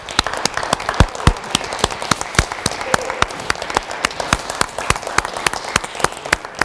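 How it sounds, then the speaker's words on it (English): Scattered hand claps from a small audience at an engineering senior awards ceremony, sharp distinct claps in an uneven patter at moderate loudness, sounding thin and sparse, with no voices over them. "Let's give Shane a round of applause."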